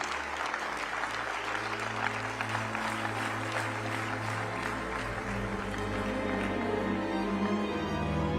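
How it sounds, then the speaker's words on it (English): An audience at a memorial tribute applauds as a woman walks on stage to read a Bible passage, steady, dense clapping filling the room, with a low hum beneath and scattered murmuring. "A round of applause, please."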